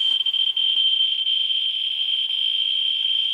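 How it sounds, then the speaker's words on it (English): A radiation survey meter held near a uraninite pitchblende specimen emits a continuous, piercing high-pitched tone, steady and close throughout with slight flickers in level. "I'm going to reset our detector, our survey meter, reset it to 0."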